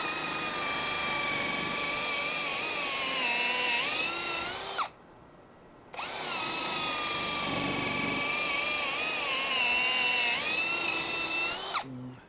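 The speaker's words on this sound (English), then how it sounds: "We're going to drill a 3/8 pilot hole" A power drill whines at high speed, boring a 3/8-inch pilot hole through wooden boards, then stops briefly before running again for several more seconds, loud and close.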